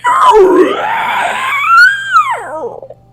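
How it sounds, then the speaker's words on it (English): An awful, drawn-out scream during a tabletop role-playing game, a loud wailing moan that swoops up and down in pitch, then breaks into wavering, falling cries before cutting off. "Y'all hear this just awful scream."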